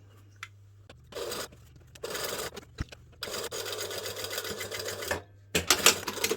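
A home sewing machine, an MC9900 embroidery model, runs in several bursts of rapid stitching with short pauses between, close and fairly loud, ending with a brief backstitch run; no one speaks.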